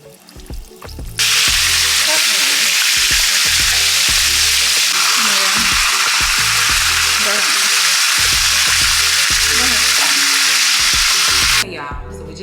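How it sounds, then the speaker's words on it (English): Chicken breast sizzles loudly and steadily in a frying pan for about ten seconds, with the hiss starting abruptly and ending near the close. Low clanks and utensil knocks recur under it. No one speaks. "Fry our chicken breast."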